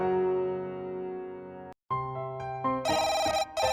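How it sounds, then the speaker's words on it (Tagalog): A telephone in a home rings in an animated story: a sustained tonal ring, a brief gap, then a brighter, higher electronic ringing in bursts, alone without voices. "tumunog ang telepono"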